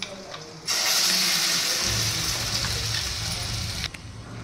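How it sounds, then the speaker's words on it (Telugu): Water from a small glass poured into spiced masala (chilli powder, turmeric) in a pan for paneer butter masala, a steady close splashing pour that starts abruptly and runs for about three seconds before cutting off. "కొంచెం తిక్కుగా ఉన్నందుకు కొన్ని నీళ్ళు పోసుకున్నాను నేను"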